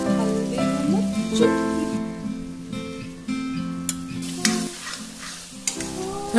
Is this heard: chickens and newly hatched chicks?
no